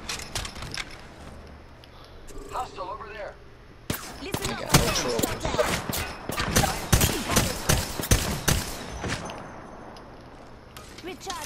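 Gunfire in the video game Apex Legends comes in rapid bursts and scattered single shots, with metallic clangs and dings, growing dense and loud in the middle. A voice talks briefly over the game sounds.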